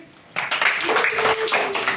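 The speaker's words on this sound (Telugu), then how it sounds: "ఆర్ఏవిఐ రవి క్లాప్స్ కొట్టండి" Children clapping their hands together in a classroom, a sustained burst of bright, dense claps that starts suddenly and runs steadily, with a brief voice mixed in.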